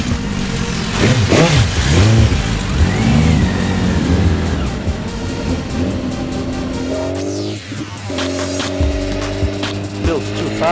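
A racing motorcycle accelerates hard, its engine note climbing and revving loudly and close, with shifts and a brief drop before rising again; a voice talks over it in places.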